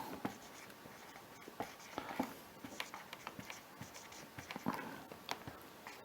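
A pen scratches and taps across paper in quick, irregular strokes, close up and quiet, with no talking.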